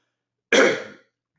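A single short, harsh cough from a person with a sore throat bursts out close by, then silence.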